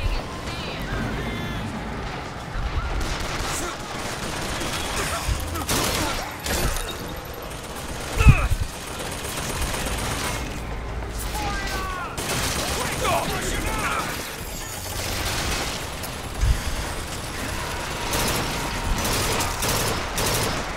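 Repeated rapid gunfire from a powerful gun in BioShock Infinite, bursts of shots spread across the whole stretch amid game action, with one heavy blast standing out midway and a player talking over it.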